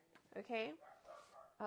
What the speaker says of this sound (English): if you hear my dogs in the background, so sorry